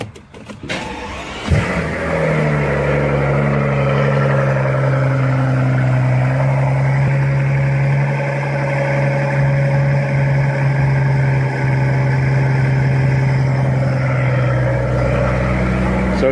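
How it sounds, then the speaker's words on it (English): A car with mufflers fires up on a cold start, a sharp crank and catch followed by a loud, steady high idle that holds close by for the rest of the stretch. "So I'm going to show you guys a cold start now with mufflers."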